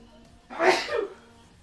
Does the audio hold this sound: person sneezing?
yes